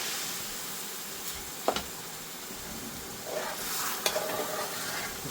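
A prawn curry sauce with added base gravy is stirred in a pan, giving a steady close sizzle with scraping spoon strokes that stand out a couple of times. No one speaks.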